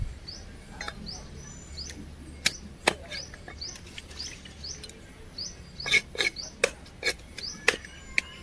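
Fish being cut with a knife at home for fish curry: sharp, irregular chopping strikes, some in quick clusters, sounding close over a quiet background with birds chirping faintly throughout and no talking.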